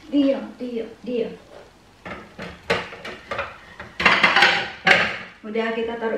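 Plates and cutlery clink and clatter in repeated bursts as rujak, a fresh apple and green plum fruit salad, is set out, with a voice talking between the knocks.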